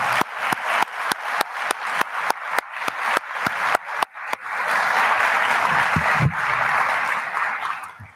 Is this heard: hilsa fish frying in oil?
no